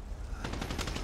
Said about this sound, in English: Oh, I'm getting shot. I'm in the line of fire.